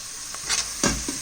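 Chopped onion and parsley hitting a hot pan give a close, steady hiss with a few brief bursts of stirring clatter, heard alone with no talking.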